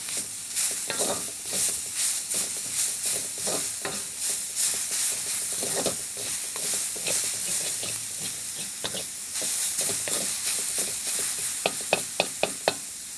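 Grated carrot halwa mixture sautéing in a pan, a continuous hiss and sizzle with repeated scraping stirs, the last few strokes sharper, close and fairly loud.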